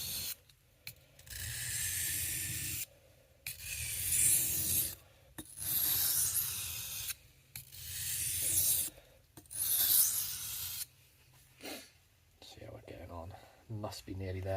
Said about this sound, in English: I'm having to do that sort of original sharpen now